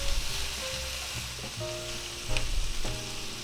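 Cabbage fries and sizzles in a pan, a continuous crackling hiss with occasional stirring scrapes and small pops, fairly close and moderately quiet, no talking.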